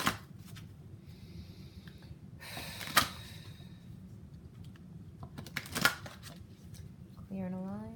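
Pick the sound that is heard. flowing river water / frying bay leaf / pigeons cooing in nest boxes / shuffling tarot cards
shuffling tarot cards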